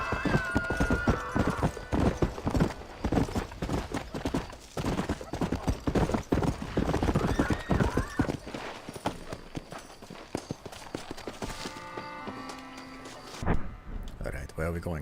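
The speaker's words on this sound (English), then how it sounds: "Mount the horse already." Horse hooves gallop in rapid, steady clip-clop in Red Dead Redemption, loud and close, with a horse whinnying and gunfire-like bursts mixed in, fading near the end.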